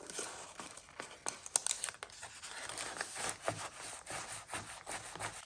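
Close, scratchy ripping and crinkling of tape being pulled off a roll, a continuous rasping stretch with sharp crackles over a few seconds during paper-crafting, no talk.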